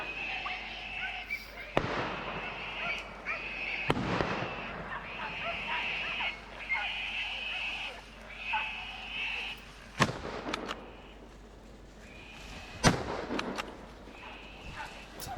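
Rifle shots ringing out during a wild boar and roe deer hunt outdoors, several sharp cracks spaced irregularly and heard from a distance, with faint talk and ambient noise between the reports.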